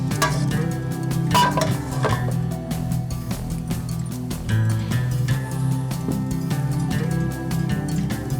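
Coriander is stirred into an Afghani karahi in a pan, with continuous scraping and clinking of a utensil against metal over a low sizzle, close and steady throughout with no talking.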